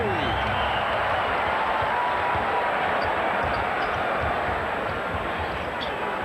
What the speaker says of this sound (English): You hear the buzz in the crowd, can't you?